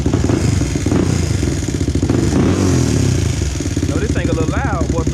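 A 2001 Honda TRX400EX ATV with a ticking noise runs loud and close, its engine chugging in a rapid throbbing rhythm with slight revving swells.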